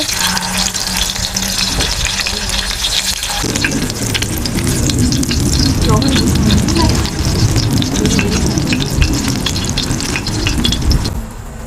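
Loud, steady sizzling of pollock pancake batter frying in an oily pan, crackling and spattering close up, with a faint voice briefly in the background.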